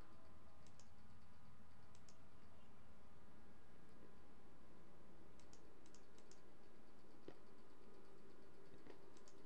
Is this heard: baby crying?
no